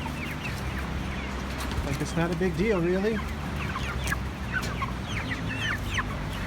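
Cornish Cross meat chickens cluck and murmur steadily in a flock, one bird's wavering call standing out near the middle, while a person talks over them.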